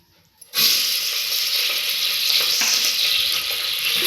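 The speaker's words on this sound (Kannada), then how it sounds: "ಹೆಚ್ಚಿ ತೊಳೆದಿಟ್ಕೊಂಡಿರೋ ಮಟನ್ನು ಅರ್ಧ ಕೆ ಜಿ ಹಾಕ್ಕೊಳ್ಳೋಣ." Half a kilo of chopped mutton hits hot Gold Winner oil and starts a loud, steady sizzle right after a brief quiet start, frying close by without pause.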